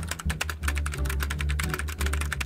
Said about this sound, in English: ruffling feathers in the school library with his obnoxiously loud typing